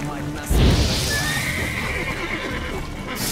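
A horse in The Witcher 3 gives a loud, close whinny and clip-clops, then a long drawn-out neigh trails off, with a voice over it.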